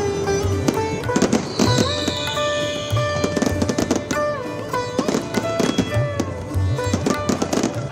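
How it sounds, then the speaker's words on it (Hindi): Green fireworks at the Ayodhya Deepotsav 2024 festival crackle and boom in rapid succession, overlapping bursts with a whistling rise, continuous and loud at a moderate distance. "अयोध्या में प्रदूषण मुक्त ग्रीन आतिशबाजी की गई"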